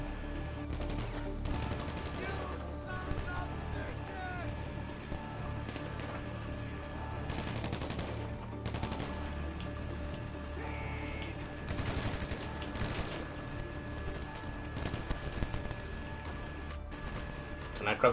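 Rapid bursts of automatic gunfire strike the player during a GTA Online heist setup, with repeated volleys over a dense game soundscape and people talking throughout.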